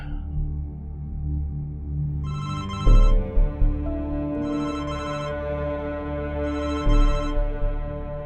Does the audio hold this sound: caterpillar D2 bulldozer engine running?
no